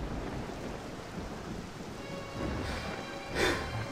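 Rain pours steadily in a thunderstorm in The Legend of Zelda: Twilight Princess, with low rumbling thunder and a sharper crack near the end over the constant hiss of rainfall.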